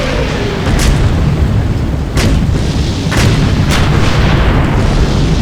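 Nebelwerfer rocket artillery fires in a Sudden Strike 3 World War II battle, with several booming launches and blasts over a constant loud rumble of combat and no speech.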